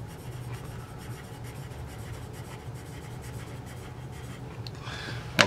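CWPE 2B pencil moving across paper, a soft continuous scratchy rubbing with faint strokes, close and quiet throughout, ending with a small tap.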